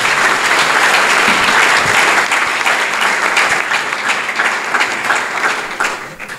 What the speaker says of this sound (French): Est-ce qu'on peut encore applaudir, s'il vous plaît?